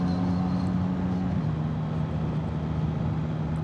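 Yamaha MT-09 motorcycle with Y-AMT automated gearbox in D mode, engine note holding steady then dropping in pitch at an automatic gear change partway through, continuous and fairly close under wind and road rumble.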